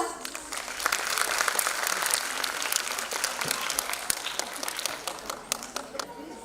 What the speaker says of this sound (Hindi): खूब तालियां